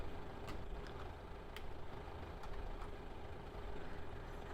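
Farm tractor engine in Farming Simulator 15, a steady low rumble running in fourth gear while seeding a field, continuous and fairly quiet with no talk.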